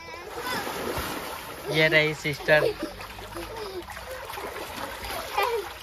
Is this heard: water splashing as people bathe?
yes